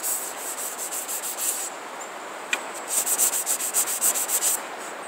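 Sandpaper rubbing rhythmically along the edges of a rawhide-backed wooden bow, a steady series of short scratchy strokes in two bursts with a brief pause between, close up and with no speech.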